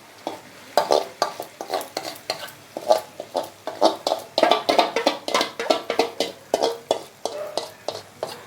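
Marinated mutton is stirred in a hot pan with a steady run of sharp scraping and clinking strokes from a spoon against the metal. A soft sizzle sits underneath the close, rhythmic stirring.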